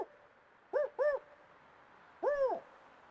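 A person imitates a spotted owl hoot in a redwood forest park, voicing three rising-and-falling hoots: two quick ones close together, then a longer one after a pause, each clear and fairly loud over quiet surroundings.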